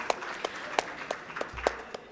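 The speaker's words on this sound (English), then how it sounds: "A big round of applause for Datu Mirina." An audience at a summit conference applauds a speaker, a thin spread of distinct claps from a few hands rather than a full roar.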